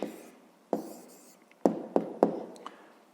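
A pen or pencil scratches out an answer on paper in short separate strokes and taps, a few quick marks with quiet pauses between them, close and alone.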